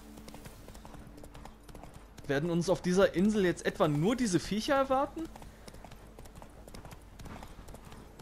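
Horse hooves clip-clop steadily under a rider in The Witcher 3, a soft repeating gait running through the whole stretch while someone speaks over the middle.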